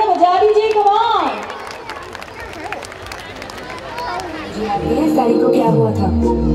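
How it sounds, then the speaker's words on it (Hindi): An audience at a lucky-draw event claps and cheers for a child's performance, a dense burst of crowd noise that dips midway, with a voice speaking over it and rising tones near the end. "बॉस तालियां बजा दीजिए, कम ऑन"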